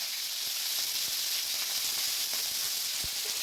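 Potato, capsicum and carrot sizzle steadily in hot oil for veg noodles, a continuous close frying hiss with scattered small pops and crackles throughout.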